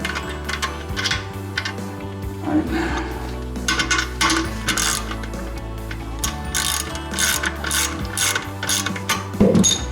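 A ratchet wrench with a deep socket tightens toilet bolts during a wax ring replacement, giving loud, close bursts of rapid mechanical clicking with brief pauses between strokes.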